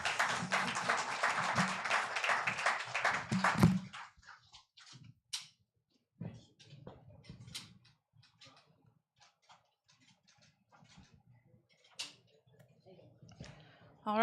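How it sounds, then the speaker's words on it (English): A summit crowd applauds a family business panel with dense, loud clapping for about four seconds, then it thins to scattered claps and clicks. "I think we can clap for them one more time."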